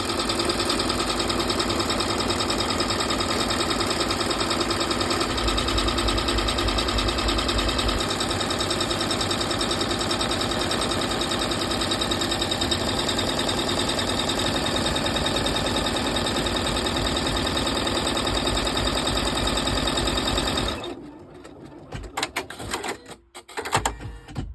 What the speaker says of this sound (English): With your hoop back on the machine, stitch out step 27, the last step.